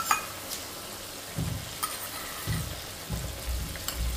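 Whisked sour yogurt goes into sizzling masala for doi katla and is stirred: a soft background sizzle runs under repeated spoon scrapes and dull thuds against the pan, close and steady, with no talk.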